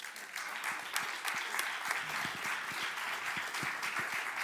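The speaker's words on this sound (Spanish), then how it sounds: "Un aplauso muy fuerte para ellos." An audience at a Spanish round-table event on terrorism claps steadily, dense applause holding at an even level throughout without pause.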